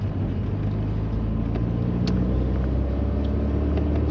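A 1986 Citroën BX Sport with a carburetted engine runs steadily at idle, a continuous low rumble close by, with slight swells as the accelerator is worked while warming up.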